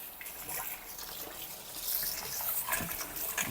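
Okra being washed under a running kitchen tap, a steady soft splash of water with faint rustling as the pods are rubbed clean.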